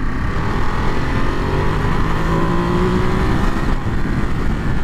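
A 2023 Ducati Monster SP motorcycle engine hums steadily in third gear while riding, a constant moderately loud drone with wind noise and no change in pace.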